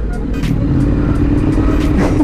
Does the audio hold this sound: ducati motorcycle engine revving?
yes